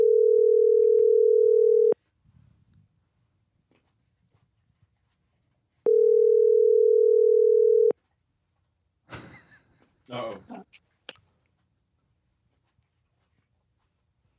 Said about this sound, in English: Let's see if he answered the phone.